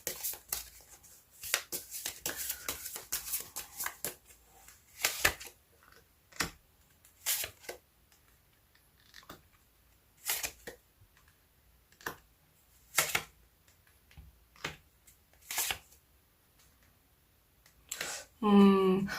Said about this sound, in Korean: 주별로 자세한 조언의 메시지 카드 뽑아보도록 할게요